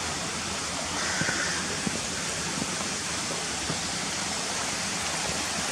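Janet's Foss waterfall pouring into its pool, a steady broadband rush of falling water that holds even and continuous throughout, with no voices over it.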